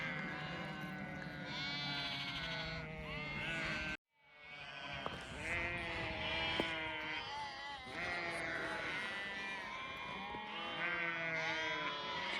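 A flock of Akkaraman sheep and lambs near Mount Ağrı bleats continuously, many overlapping calls near and far, with a brief cut partway through.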